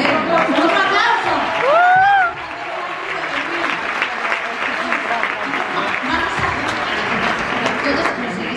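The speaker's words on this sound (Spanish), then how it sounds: "¡un aplauso!" A festival premiere audience bursts into applause for a family TV series, with dense continuous clapping and scattered cheers and whoops throughout, loud and sustained, while voices call out over the crowd.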